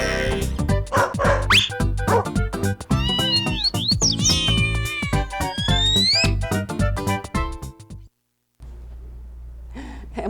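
A kitten and a puppy together, with high, sliding meows mixed with yips and barks in quick, busy succession, loud and close, before a short silence and a brief return of faint sound.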